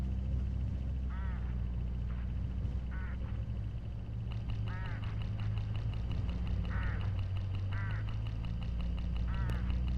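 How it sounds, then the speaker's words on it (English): Hooded crows along a road in a video game give several short harsh calls in spaced bursts over a steady low engine-like drone, with a faint tonal hum in the background. "Look, hooded crows."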